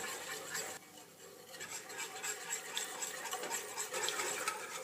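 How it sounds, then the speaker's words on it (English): A utensil stirs pastry cream in a pan cooking over a flame, giving a continuous soft scraping and swishing with a brief pause near the start, close and fairly quiet. "You keep stirring as you cook it."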